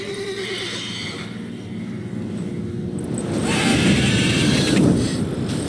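A horse in The Witcher video game neighs and whinnies loudly, a drawn-out cry that swells near the end over a steady background of wind and hoofbeats.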